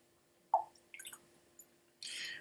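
A spoonful of water is added to Tomatin cask strength Highland single malt whisky at 57.5%. A few soft drips and splashes come in quick succession, close and quiet, then a brief trickling pour.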